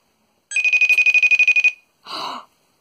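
A FaceTime call ringing tone pulses about a dozen times in a quick steady rhythm, then a short soft burst of a different tone follows; no talking.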